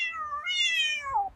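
A single cat gives one drawn-out meow, rising then falling, close and clear against a quiet background.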